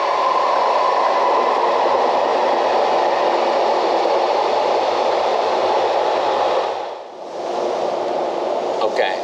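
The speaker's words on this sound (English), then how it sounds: "There's a train coming in." A train pulls into a station in Japan, a steady loud rushing rumble and hiss lasting several seconds that briefly dips before rolling on.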